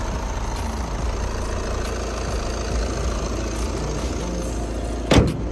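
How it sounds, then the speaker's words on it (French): A car engine idles steadily at close range, a low even rumble running throughout, with a brief louder knock or clatter near the end. "Le moteur il tourne comme une horloge."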